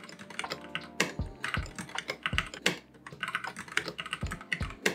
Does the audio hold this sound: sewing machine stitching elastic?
no